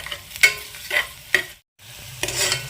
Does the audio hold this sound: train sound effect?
no